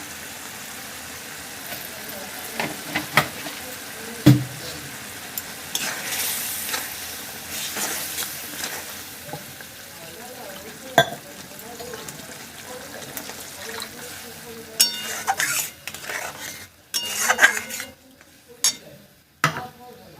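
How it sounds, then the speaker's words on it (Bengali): Rohu fish kalia gravy bubbles and sizzles in a pan, a continuous crackling bed broken by scattered clinks and scrapes of stirring utensils, with some background voice in the room. "কাইটা ফুটে গেছে, এবার মাছটা দিয়ে দিচ্ছি।"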